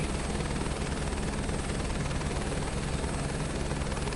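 A helicopter flown in Microsoft Flight Simulator 2024 holds a steady, loud rotor and engine drone throughout, with a continuous whine on top and no voices.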